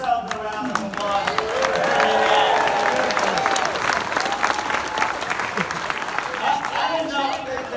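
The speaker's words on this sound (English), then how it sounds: "give yourselves a round of applause" Applause at a political rally as an audience claps steadily and loudly throughout, crowd noise and some voices mixed into the dense clapping.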